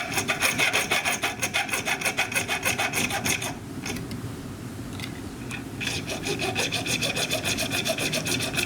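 Small X-Acto hand saw cutting with rapid, rhythmic back-and-forth rasping strokes, close and steady, pausing briefly midway with a softer scrape before the quick sawing resumes.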